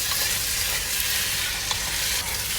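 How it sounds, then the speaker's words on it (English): Chicken sizzles and crackles steadily as it fries in masala in a hot pan, a dense hiss that stays even throughout, close by with no speech. "So I've been frying the chicken in the masala for about 2 minutes now"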